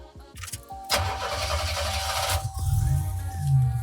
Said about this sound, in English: Let me start it up real quick.